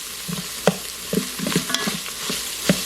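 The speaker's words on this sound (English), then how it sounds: "it says to cook this until your onions" Onions cooking in a pan on a home stove, with a low steady sizzle broken by several sharp scraping stirs and utensil clicks spread across the moment.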